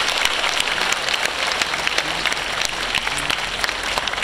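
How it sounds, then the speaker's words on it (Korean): Warm audience applause at an 80th anniversary Korean Liberation Day celebration ceremony, dense clapping that carries steadily and evenly throughout. "멤버들에게 뜨거운 박수 부탁드리겠습니다."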